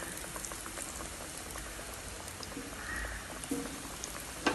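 A cutlet sizzles in hot oil over a low gas flame, a steady crackling hiss with scattered pops throughout, close and even, no voices.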